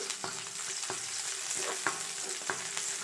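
Onion frying in a pan with shrimp for a cauliflower dish, a constant soft sizzle with periodic light scrapes and taps of a stirring utensil, close and moderately quiet, without talk.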